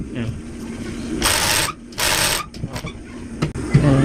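A Pegasus W500 industrial sewing machine runs noisily with a loose connecting rod, giving two loud, close bursts of mechanical rattling amid a clattering workshop background while a voice talks.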